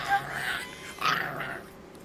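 A dog at a dog shelter makes soft whimpering, growl-like vocal sounds in two short bursts, close and moderately loud with no talking.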